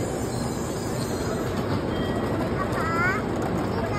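Shinkansen bullet train pulling into a platform, a steady loud rolling rumble with a brief high wheel or brake squeal near the end, with background station noise.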